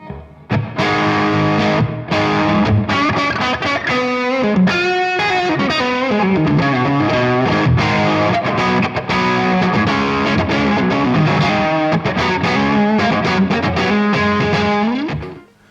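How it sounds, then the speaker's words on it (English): Distorted electric guitar through an overdrive pedal and a Strymon BigSky room reverb plays a sustained, dense riff with reverb tail, loud and continuous throughout, ending abruptly. "I think it's a really nice, clean sounding reverb."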